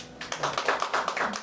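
Congregation clapping during a Sunday church service, a brief burst of rapid, overlapping claps that swells after a quiet start and stays steady and fairly close for about a second.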